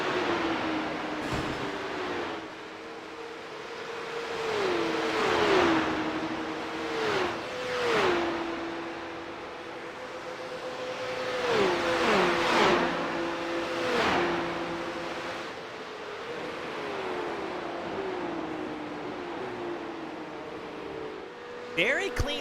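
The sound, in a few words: Porsche Cup race cars racing at Watkins Glen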